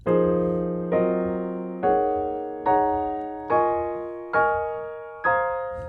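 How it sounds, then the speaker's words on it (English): Seven harmonized half-diminished chords are struck one after another at an even pace, an arpeggio from the root up to the 13th, each ringing briefly and decaying, climbing steadily upward; no talking. "utilized arpeggio motion from the root all the way up to the 13th"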